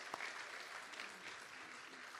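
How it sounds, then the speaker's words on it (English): An outdoor audience at the 2018 International Plowing Match in Pain Court claps in response to a call for applause. The clapping is faint and distant, a soft, even patter with one brief sharper clap near the start. "Can I hear some applause?"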